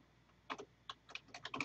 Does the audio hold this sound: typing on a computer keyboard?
yes